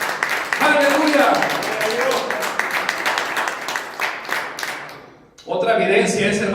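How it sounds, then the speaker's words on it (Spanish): A church congregation claps and cheers together, dense applause mixed with voices, fading out briefly before a loud burst resumes. "Denle un aplauso al Señor, hermano."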